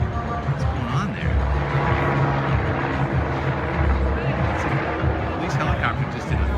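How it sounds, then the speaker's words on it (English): A police helicopter banks and circles overhead near a USC Trojans homecoming football game in Southern California, its rotor a fairly loud, continuous throbbing drone mixed with crowd babble and people talking nearby. "Police helicopter just did a 360."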